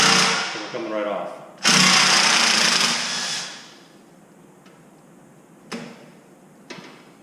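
A 10mm socket driven by a power tool loosens brake backing plate bolts on a BMW F30 335 xDrive during a big brake install, with two loud whirring, rattling bursts, then quieter clicks and taps nearby.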